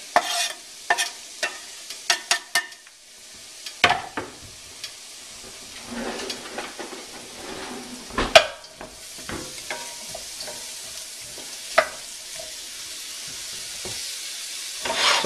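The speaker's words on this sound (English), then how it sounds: "So we're gonna start by putting shallots in here." Chopped, peeled shallots frying in a pan over medium heat: a steady soft sizzle broken by sharp clatters and scrapes of stirring, with a few louder knocks, no talking.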